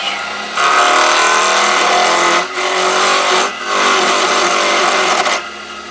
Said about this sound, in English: all set up on my little sit down lathe. As I'm getting bone idle. I'm using an Ashley Isle spindle gouge